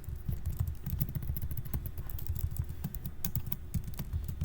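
Rapid, steady clicking of typing on a computer keyboard while working in a terminal, close and moderately loud, continuous throughout with no talk.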